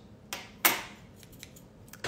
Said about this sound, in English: scissors, you need something to cut your thread